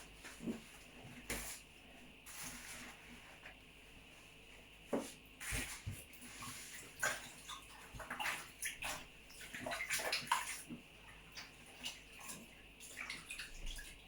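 Hands are washed under running tap water in a kitchen while cooking banana puff puff. The quiet, continuous splashing and trickling has occasional louder splashes and faint clatter.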